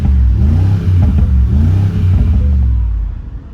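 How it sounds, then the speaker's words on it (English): A stock 2025 Mercedes-AMG G63 in Sport Plus mode revs hard, its deep V8 rumble climbing and dropping in loud repeated surges, close and dominant, before easing off and fading at the end. "let's go ahead and put this truck in Sport Plus. Let's go ahead and hear this car out and see how it sounds."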